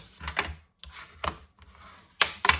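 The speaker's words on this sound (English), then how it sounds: "fold one as a valley" Scored card paper is folded into a concertina, giving several short, crisp creasing and rubbing sounds close up, separated by brief pauses.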